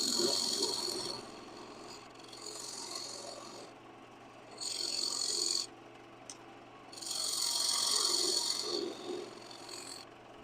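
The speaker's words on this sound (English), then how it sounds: "Get my half-inch skew in there." A half-inch skew chisel cuts a frozen piece of wood spinning on a lathe, giving bursts of harsh hissing scraping in separate passes with quieter motor hum between them, close and with no talking.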